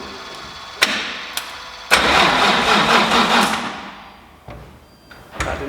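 Nissan 350Z twin turbo engine on its first start attempt: a couple of sharp clicks, then a loud cranking burst that fades without catching, followed by dull pops near the end.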